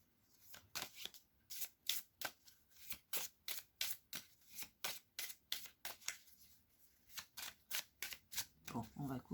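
Oracle cards being shuffled by hand in a rapid run of crisp riffling snaps, about two per second, close and fairly quiet, with a brief soft handling rustle at the end.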